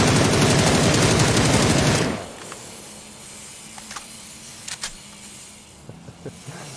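Gunfire in PUBG, a loud rapid automatic burst in rapid succession for about two seconds, then a few faint scattered distant shots and clicks.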